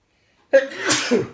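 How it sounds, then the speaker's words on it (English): A single sharp sneeze bursts out after a short silence, loud and close, trailing into a breathy exhale. "I'm gonna sneeze."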